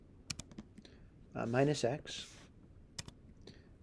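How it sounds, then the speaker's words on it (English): Typing an equation on a computer keyboard: a few sharp, close key clicks come before and after a short stretch of talk, with light tapping in quiet pauses. "And I'm going to type it in."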